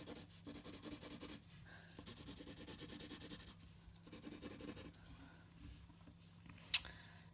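Pencil shading on paper while adding tone to a Da Vinci-style drawing, soft rhythmic back-and-forth rubbing strokes in several sessions with pauses, close and quiet, ending in a small tap.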